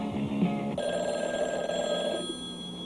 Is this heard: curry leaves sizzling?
no